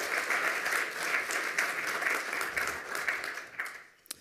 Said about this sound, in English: Give him another round of applause for being the first today